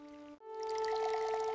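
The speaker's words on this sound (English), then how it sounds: "Water is poured into the dry mash." Water being poured into dry sprouted grain mash in a rough clay bowl, a short tonal gush with ringing, rising pitch after a brief gap, close and clear.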